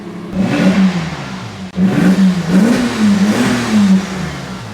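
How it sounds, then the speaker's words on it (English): A Porsche Boxster S 986 engine runs close and loud, its steady note wavering and rising slightly in a few gentle revs, with no voices. "As you can hear, the car is purring. The engine sounds sweet."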